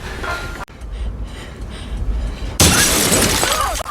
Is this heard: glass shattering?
yes